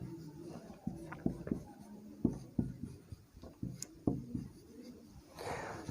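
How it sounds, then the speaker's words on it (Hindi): Marker or chalk writing formulas on a board during a trigonometry lesson: a run of close, scratchy strokes and taps in irregular bursts, fairly near, with no talking over it. "मैथमेटिकली हम लिखते हैं"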